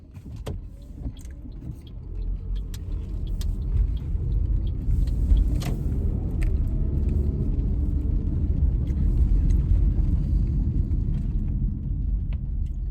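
A car driving home on the road, with a steady low engine and road rumble throughout and occasional small clicks and rattles inside the cabin.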